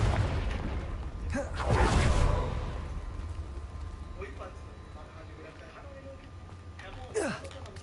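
A fiery Confringo blast curse erupts in Hogwarts Legacy, a deep rumbling boom swelling and fading over a few seconds, followed by a smaller whooshing burst later, with a voice speaking over the game sounds.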